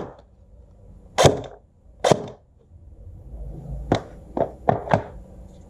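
Airsoft pellets strike a cheap mesh pair of protective glasses in sharp, separate cracks: two hits, a pause, then four quicker snaps over a faint low background.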